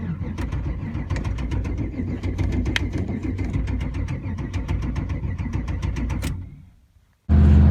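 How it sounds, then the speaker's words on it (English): A Camaro engine with rod knock cranks repeatedly with a rough, rhythmic knocking churn for several seconds, failing to start, then cuts out into brief silence before a loud burst of noise. "when I cranked it over, it didn't want to start and it sounded like rod knock"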